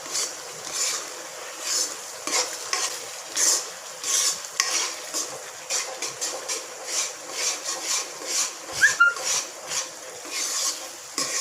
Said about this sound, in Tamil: சுருள வதக்குங்க